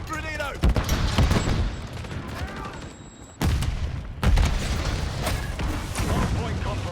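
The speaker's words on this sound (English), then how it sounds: "Stun grenade out!" A stun grenade bangs amid bursts of gunfire in a tactical shooter game, with repeated sharp loud shots and a brief near-silent gap, while game voices call out over the action.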